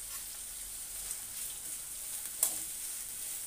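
Peanuts fry in hot oil for a Khandeshi masala khichdi, a steady soft sizzle with one faint tick of stirring, close and without talk.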